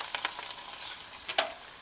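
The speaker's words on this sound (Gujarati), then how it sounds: "ડુંગળીને આ રીતની મિક્સ કરી વાળવાની છે।" Chopped onions sizzle in hot tempering oil with cumin, curry leaves, turmeric and chillies for poha batata, with a steady close fry hiss broken by a few scraping stirs of a spoon.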